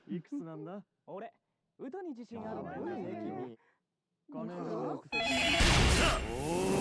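Telephone ringing in the video game Yakuza 0, a loud bright ring bursting in at the end after stretches of someone talking.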